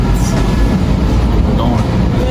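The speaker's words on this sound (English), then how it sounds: "We just made it on the metro." A Washington D.C. metro train rides along with a loud, steady rumble and rattle heard from inside the car, with faint squeals of the wheels and a voice speaking briefly under the noise.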